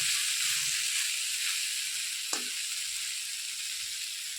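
Banana peel curry fries in a pan, giving a continuous bright sizzle, with a single short scrape of the stirring spoon partway through.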